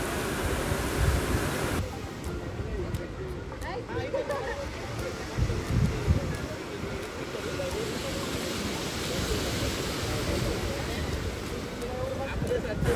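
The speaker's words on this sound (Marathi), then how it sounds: "साईडला पूर्ण समुद्र पण आहे." Sea waves beside Somnath temple, a steady broadband wash of surf mixed with wind buffeting the microphone, continuous and moderately faint.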